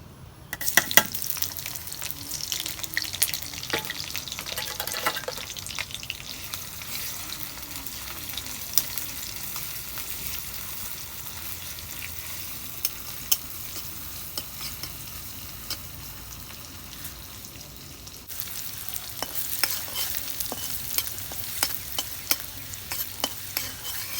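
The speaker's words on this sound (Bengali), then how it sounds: "তেল গরম হয়ে গেছে এখন আমি পেঁয়াজ দিব" Onions fry in hot mustard oil in a karai, a continuous close sizzle with clattering, scraping stirs throughout, busier at the start and again near the end, with no voices.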